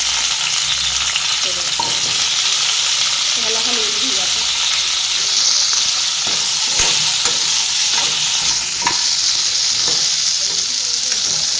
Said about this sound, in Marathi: आपल्याला शेंगा भाजून घ्यायच्या आणखीन थोडेसे घालूया तेल